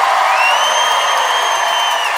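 A live studio audience at a debate comedy show applauds and cheers loudly, a dense steady wash of clapping with a whoop rising above it.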